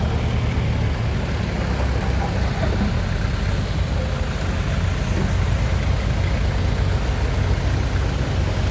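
Tractor engine running steadily while pushing weeds near a village water-supply pond, a continuous low rumbling drone throughout with no talk.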